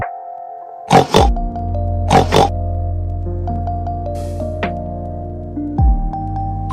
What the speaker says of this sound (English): The pig says oink.